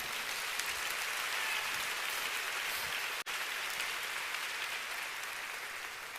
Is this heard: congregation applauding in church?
yes